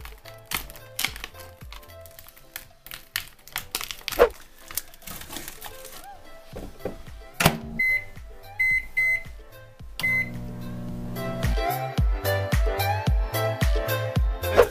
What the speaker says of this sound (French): Je fais les trous là-dedans, 4 minutes et demie au micro-ondes, fini.